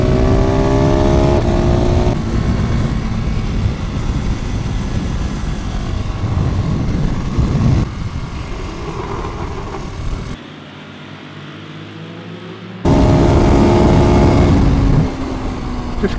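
KTM 690 Supermoto motorcycles racing at Brands Hatch, single-cylinder engines revving loud and close with gear changes and shifting pitch, briefly dropping off before roaring back at full volume.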